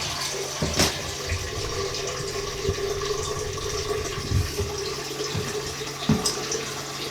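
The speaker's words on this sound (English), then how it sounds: "I'm going to need to put that a little bit more water in there" Water poured into a jar of apples for homemade apple cider vinegar, a steady soft splashing trickle with a few small knocks, close by and without talk.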